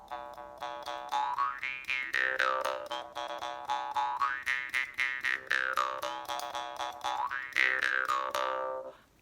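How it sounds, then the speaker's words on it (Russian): A Japanese bamboo mukkuri jaw harp twangs in a steady rhythm, its bright overtones sweeping up and down in repeated vowel-like waves, played close and alone with no talk. "Есть бамбуковый муккури, японский. Давайте попробуем его."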